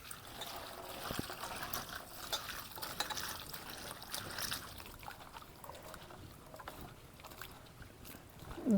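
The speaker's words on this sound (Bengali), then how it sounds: "এবারে জল দিয়ে ভালো করে ধুয়ে নেব" Taro stolons (kochur loti) are rinsed by hand in water, with steady splashing, sloshing and trickling close by and a brief louder splash at the end, without talk.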